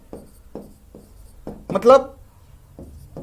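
Chalk on a board during a Maithili literature lecture, with a few separate scratchy strokes spaced about half a second apart. Someone speaks briefly in the middle.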